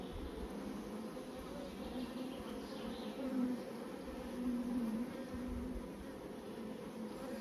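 Honey bees buzz around a hive that may have swarmed, a dense, steady drone close by with individual bees swelling louder as they pass, continuing without talk.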